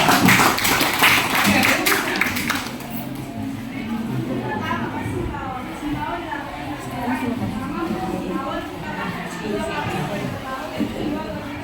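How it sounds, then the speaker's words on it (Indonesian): In a junior high school classroom, a short burst of lively, close clapping lasts a couple of seconds and stops abruptly, followed by steady talking and murmuring voices around the room. "Tepuk tangan dulu"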